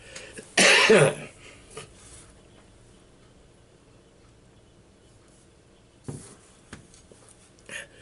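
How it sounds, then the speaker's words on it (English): A harsh, wet cough bursts out once at close range, bringing up phlegm from lung-damaged airways, then quiet breathing follows with a few small clicks and a short throaty stir near the end. "I am coughing up stuff."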